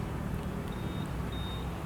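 A Honda Vario 160 scooter's keyless remote system gives two thin, high answer-back beeps, spaced apart. They sound faintly over steady outdoor background noise, with no talking.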